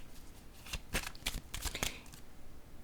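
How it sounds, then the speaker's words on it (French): Tarot cards handled and set down on a table, a quick run of soft, crisp card snaps and slides, close and quiet, with no voice. "Je vais déposer une carte sur la prison."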